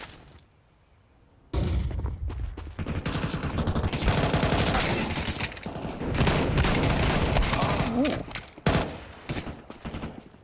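Shotgun blasts and rapid gunfire in a CS:GO ESL Impact match: after a quiet opening second, dense, loud bursts of shots run continuously with brief gaps, close and overlapping, with a caster's voice mixed in.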